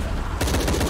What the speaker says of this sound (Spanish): ¡Balazos!